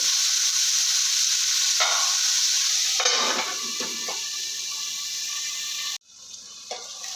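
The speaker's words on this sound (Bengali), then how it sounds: "আমি দিয়ে সিদ্ধ করে নেব ভালো করে ভেজে নেব" Vegetables fry and get stirred in a pan, with potato, carrot and cabbage cooking for a healthy flour-dough tiffin or dinner dish; a steady loud sizzle with scraping stirs, then a sudden drop and quieter hiss near the end.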